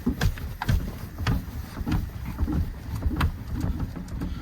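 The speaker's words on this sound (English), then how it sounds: "I can hear something clicking, but nothing much else going on" A Holden VN SS starter clicks in irregular, sharp bursts as someone tries to start the car, over a steady rough background noise.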